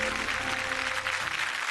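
Studio audience applause on a Marathi TV wedding game show, a dense, steady wash of many hands clapping that holds evenly throughout without talk.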